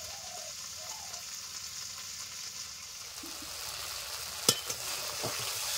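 A paste of ginger, garlic, cumin, coriander and dried chilli with salt and turmeric fries in oil while being stirred. A soft, steady low sizzle runs through, with one sharp clank of the spoon on the pan.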